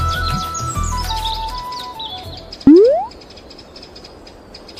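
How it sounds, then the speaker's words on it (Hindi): Small birds chirp and twitter in a cartoon folk tale, their calls trapped in a net, with a sharp rattling zip partway through and steady background ambience. "जहां गिलू कालिया के जाल में कई बेचारे पंछी फंसे हुए थे।"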